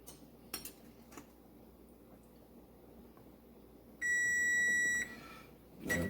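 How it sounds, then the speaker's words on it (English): Electronic kitchen timer beeping in a home kitchen during strawberry jam making: one steady, fairly loud tone held for about a second, with light clinks of dishes before it and no talking. "There's the timer."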